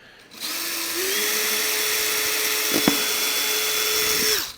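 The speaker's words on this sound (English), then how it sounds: "we're going to drill it straight through the PVC pocket and the HDP insert on the inside" A power drill whirs steadily at high speed for several seconds, biting through a PVC pocket and HDPE insert with a brief knock midway before winding down.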